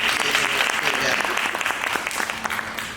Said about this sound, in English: Round of applause for Dr. Honeycutt and for Thor as well.